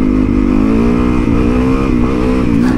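Supermoto motorcycle engine revving hard as the throttle is ripped, a loud, close, sustained buzzing roar that rises and falls slightly in pitch.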